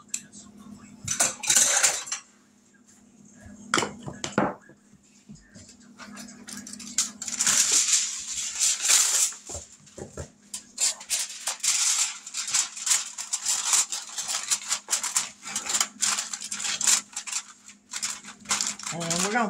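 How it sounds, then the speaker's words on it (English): Aluminum foil crinkling and tearing as it is pulled over a baking dish of TikTok cinnamon rolls, bursts of loud close rustling with metallic clinks in between, while people talk at times. "Now we're going to cover this with some aluminum foil."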